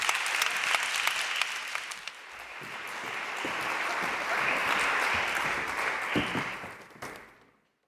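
An audience at an academic conference in Padua claps for the speakers as they come to the stage, a dense, moderately distant wash of applause that swells slightly midway and then fades out.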